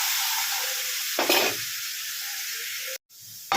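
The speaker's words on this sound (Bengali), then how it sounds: "আদাটা দিয়ে আমি একটু আগে মশলাটাকে ভালো করে কষে নিচ্ছি" Spice paste with ginger fries in a pan over a low gas flame after a little water is added, giving a steady hissing sizzle with a brief louder stirring burst and a short gap before the sizzle resumes.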